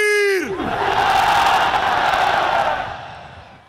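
A huge rally crowd in Karachi roars a chanted slogan response right after a single leader's shouted call, the massed voices swelling loud and sustained before slowly fading out.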